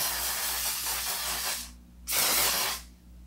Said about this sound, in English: I recommend putting the One Size matte spray at the very end.